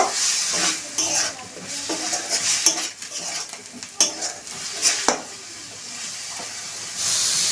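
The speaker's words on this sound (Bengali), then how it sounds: "যতক্ষণ না জলটা একটু শুকনো আছে ততক্ষণ আমি নেড়ে যাব।" Ridge gourd peel paste is stirred in a pan as its water cooks off, with a hissing sizzle and irregular scraping and clinking strokes, close and moderately loud, with no one talking.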